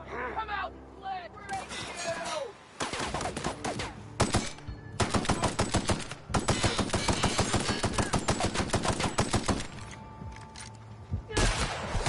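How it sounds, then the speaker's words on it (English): Shotgun blasts in The Outer Worlds video game, a rapid series of loud, sharp gunshots in bursts over game music and background effects, with a short pause between volleys. "I missed with the shotgun"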